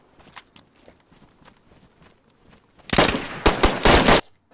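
AK and Scorpion fire in DayZ, loud rapid bursts in a few close groups after a stretch of quieter clicks and footsteps.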